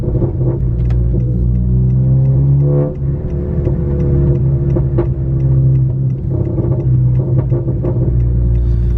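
A 2018 Honda Accord fitted with a Civic Si transmission accelerates hard, its engine a loud, deep rumbling drone that rises in pitch and shifts midway before pulling on strongly, with no voices.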